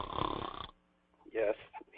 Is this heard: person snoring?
yes